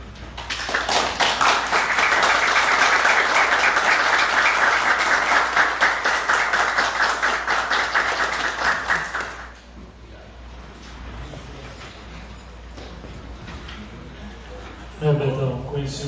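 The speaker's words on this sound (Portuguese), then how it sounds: "Queria pedir uma salva de palmas, se fosse possível" Round of applause in a city council chamber, steady clapping for several seconds that stops abruptly, followed by quiet room tone and the start of a voice near the end.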